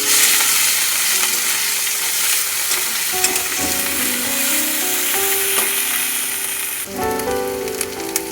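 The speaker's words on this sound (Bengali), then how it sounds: "পেঁয়াজ আর একটু ভালো করে ভেজে নেব।" Onion and capsicum frying in oil in a pan, a loud continuous sizzle and crackle with occasional stirring knocks of a spoon against the metal, and a sharper burst of sizzling near the end.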